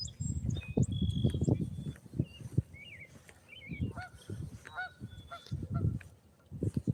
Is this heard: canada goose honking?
yes